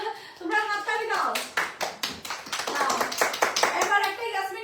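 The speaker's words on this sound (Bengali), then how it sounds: "সেকেন্ড উইনার, তোমরা হাততালি দাও।" Children clap for a second-place winner, a burst of fast, loud, overlapping claps in the middle, with voices talking before and after.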